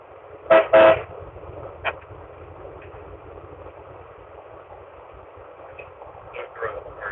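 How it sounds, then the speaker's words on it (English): Two loud train horn blasts close together, then a softer short toot, with a vehicle droning underneath and some quiet background noise. "y'all want to hear my train horn?"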